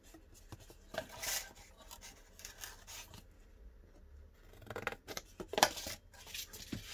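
Scissors snip through cardboard in a run of close, crisp cuts with short pauses between them, quiet and with no talking.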